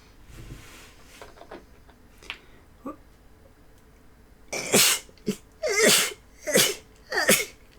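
A person sneezes several times in a row, loud, close and explosive, after a stretch of quiet handling noises and faint sniffs.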